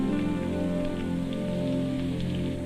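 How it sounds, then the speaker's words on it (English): Rain showers patter steadily on tents, a dense continuous drumming of drops under a low hum, heard close up with no voices. "As the big clouds moved over, there were bursts of rain that seemed determined to come through the tents."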